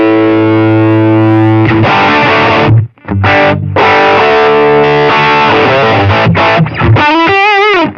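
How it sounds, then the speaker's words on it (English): Distorted electric guitar through an HX Stomp with a crunchy mid-range tone, sustained chords and riffs played loudly, with brief gaps and a bending note near the end. "So I have like a mid-rangey kind of distortion"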